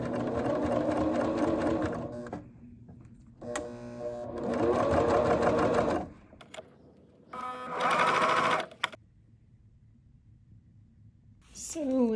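A sewing machine stitching with two needles on boot fabric runs in several bursts of rapid, even mechanical whirring, separated by pauses and a sharp click, with soft speech in between.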